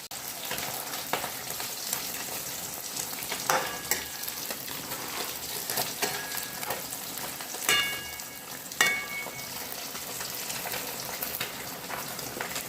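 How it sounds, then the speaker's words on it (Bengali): Spices with ginger, garlic, coriander, cumin, tomato and peas sautéing in a pan for a katla fish kalia curry, giving a steady soft sizzle with occasional scraping stirs of a spatula; no talking. "মাছের জন্য সব মশলা দিয়ে আমি কষিয়ে নিচ্ছি"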